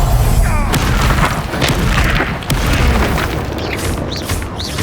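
Confringo spell explosions in the video game Hogwarts Legacy, a dense rumbling boom with crackling bursts that stays loud throughout, dipping briefly midway before surging again.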